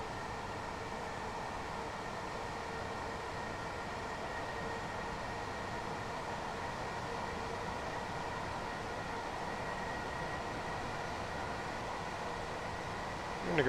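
A train running in a video game, a steady, continuous rumble and hiss of rolling wheels that holds evenly throughout without pause or change in loudness.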